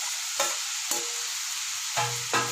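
Mint leaves sautéing in a pan for peanut chutney, a soft steady sizzle broken by four brief scraping stirs, close and quiet with no voices.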